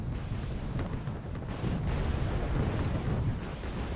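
Bombs exploding on tanks in Wargame Red Dragon, a continuous heavy rumbling roar of blasts that stays loud and dense throughout.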